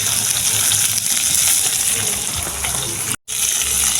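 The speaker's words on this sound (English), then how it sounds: "Saltfish are fry up, my people." Saltfish fries in a pan for a Jamaican fry-up, giving a loud, steady sizzle with a watery crackle that runs almost unbroken, apart from one brief dropout near the end.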